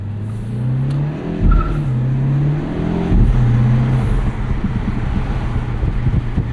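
A 2025 Mini Cooper JCW turbo hot hatch pulls hard with a steady engine drone, simulated exhaust burbles through the cabin speakers rising with two revving surges over road and wind noise.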